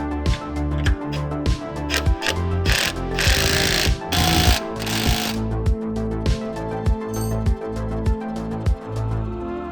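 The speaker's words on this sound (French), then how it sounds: "Fait que ça va être parfait pour marteler la tôle." A flat hammer beats dented sheet metal flat on a Toyota Altezza, with loud, steady, evenly paced metallic strikes that ring over a busy workshop background and no talking.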